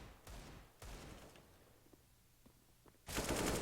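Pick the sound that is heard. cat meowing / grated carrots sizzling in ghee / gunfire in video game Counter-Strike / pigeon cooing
gunfire in video game Counter-Strike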